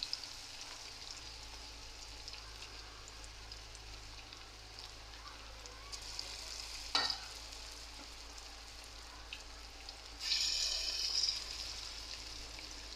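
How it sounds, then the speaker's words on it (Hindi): Fish pakora in gram flour batter frying in oil, a steady soft sizzle with brief louder crackles and spatters, no voices. "ये हमारी फ़िश हमने इसके अंदर डाल दी। अब इसको फ्राई करते हैं"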